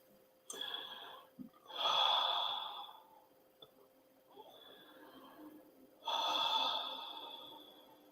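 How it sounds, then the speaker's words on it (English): Three deep, slow breaths taken close and quiet in a calm meditation setting, each a long airy inhale-exhale separated by soft pauses. "3 deep, slow breaths."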